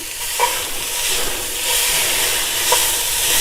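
Chicken chow mein noodles fry over medium-low heat, a loud steady sizzle close by, broken by a couple of sharp spatula scrapes and clinks as the noodles are stirred.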